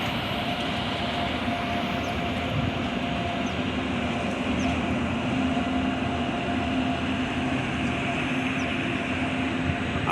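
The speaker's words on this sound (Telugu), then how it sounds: "సో ట్రైన్ అయితే చాలా స్లోగా వెళ్తుంది." A passenger train on the Guntur–Visakhapatnam route, hauled by a goods engine, rolls slowly past with a steady low rumble and rail hum, continuous and moderately close, no voices.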